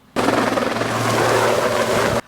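Helicopter at a staged crash reenactment on a high school football field, a steady loud rotor and engine roar held close for about two seconds, then cut off abruptly.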